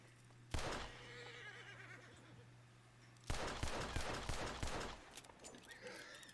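Gunfire in the Red Dead Redemption 2 video game, two sharp bursts of rapid shots with echoing crackle, the second volley longer, set around horses with a faint whinny between.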